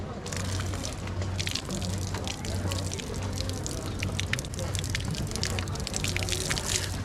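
Water runs steadily from a lion-head public drinking fountain in Shimla. The flow makes a continuous close trickle and splash, with a low hum and some street background underneath.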